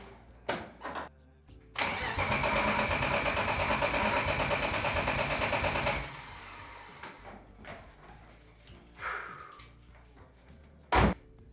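A rebuilt BMW E36 turbo engine cranks over close by for about four seconds, then stops. After that come a few sharp knocks and a loud thump like a slam near the end.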